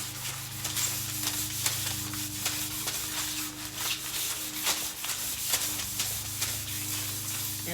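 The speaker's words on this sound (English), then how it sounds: "it's gonna be noisy. I like really, really sand the" Hand sanding of a painted cabinet surface, a steady continuous abrasive rubbing with rhythmic strokes, fairly close and loud over a constant low hum in the room.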